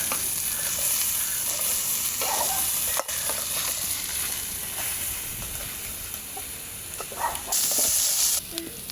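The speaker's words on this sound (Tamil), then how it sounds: "வதக்குங்க" Crab and curry ingredients for a Jaffna-style crab curry sauté in a pan, giving a loud continuous sizzle with bursts of stirring and scraping and a few brief knocks, and no talking.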